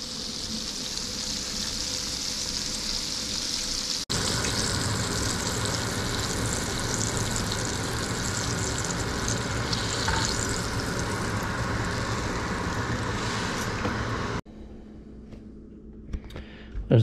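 Floured mangrove fish fry in a pan with a steady, close sizzle and crackle that cuts off abruptly near the end, leaving quieter kitchen clatter.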